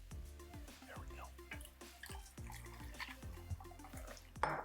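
Water poured from a mug into a pot for a ginger and turmeric cold remedy, a series of resonant gurgling glugs and drips in a quick uneven rhythm, close and fairly quiet.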